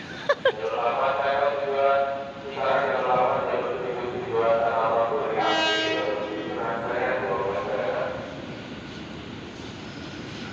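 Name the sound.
commuter train passing at station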